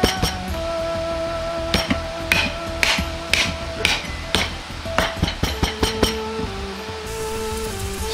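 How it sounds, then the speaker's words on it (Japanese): Pork for twice-cooked pork is pounded flat in a kitchen, giving a close series of sharp irregular knocks and taps with clinks, a dozen or more hits at an uneven rhythm over low background noise. "肉を叩き広げ薄くし"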